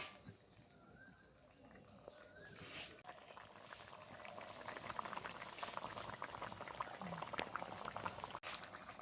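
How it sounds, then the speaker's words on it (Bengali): Fish roe curry broth at a steady rolling boil in a pot, a continuous close bubbling hiss with small pops, no talk. "ঝোল খুব ভালোভাবে ফুটিয়ে নিয়েছি"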